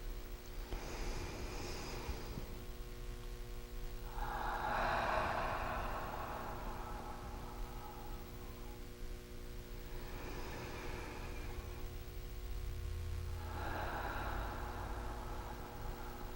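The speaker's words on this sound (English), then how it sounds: "concentrate on nothing more than the sound of the breath coming in and out of your mouth" Slow, deep breaths drawn in and pushed out through the mouth, about four long airy cycles spaced evenly over a faint steady hum, close to the microphone with no talking.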